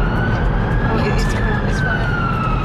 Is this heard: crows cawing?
no